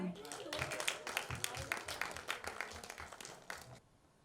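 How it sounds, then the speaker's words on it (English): An audience at a web series launch event claps in loose, uneven bursts with distinct individual hand claps, and a voice talks over the applause before it fades. "We should have like a huge round of applause here."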